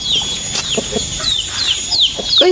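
Several chickens cluck and chirp nearby in quick, scattered calls over a low background hum.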